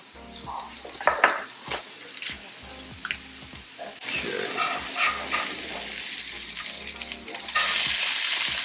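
Steak frying in butter in a pan for a breakfast burrito, a loud, close sizzle that swells partway through, mixed with scraping and stirring clatter and a few knocks, with no talking.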